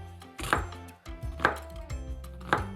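A knife chops onions on a cutting board in three crisp, evenly spaced strikes, close and clear with no talk.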